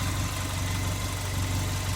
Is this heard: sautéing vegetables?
no